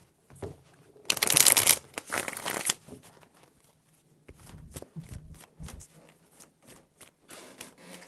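Tarot cards being shuffled by hand in short papery bursts, one dense riffle followed by lighter scattered card slaps and rustles, close and fairly quiet with no talking.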